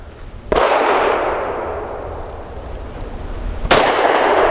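Two loud, sharp pistol shots from a Mossberg MC2sc firing Federal Premium 124 grain jacketed hollow points, about three seconds apart, each followed by a long ringing decay outdoors.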